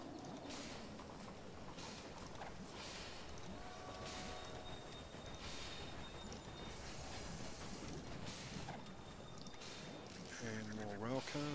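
Trains run on a railway network in the strategy game Railway Empire, with a steady rolling rumble under ongoing talk and a brief tonal whistle-like sound near the end.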